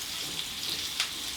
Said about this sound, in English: You want to hear that sizzle? See the meat sizzle.